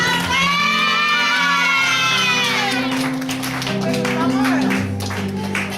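A lively wedding crowd cheers and whoops loudly, with high excited shouts rising over a continuous roar of voices.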